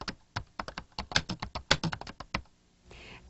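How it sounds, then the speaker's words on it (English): Rapid typing on a computer keyboard for a 1994 Lotus Ami Pro tutorial, a dense run of sharp close key taps in an irregular rhythm that pauses before a soft rustle, no talking. "We then type word wrap and press Enter."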